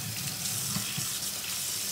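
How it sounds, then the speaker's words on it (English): Tap water runs steadily into a tub being filled for a vinegar dye soak, a constant full hiss and splash with no pauses. "I'm going to just give them a fill up the tub with a little bit of vinegar and the water"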